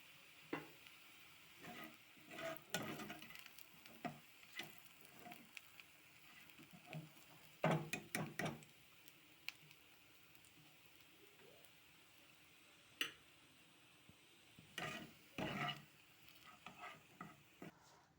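Onions fried to crisp beresta in oil, with a faint background sizzle broken by repeated close scraping and stirring clatters from a utensil in the pan, irregular and intermittent.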